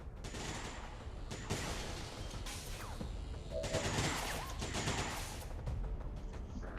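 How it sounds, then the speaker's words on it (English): Video game gunfire in XCOM 2 with ballistic weapons, clustered bursts of automatic fire and heavy impacts in waves, loudest around the middle, over a low rumbling backdrop. "I am under fire."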